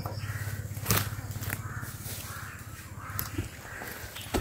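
An agitated crow caws again and again from close by outdoors, harsh calls repeating over a steady background hiss.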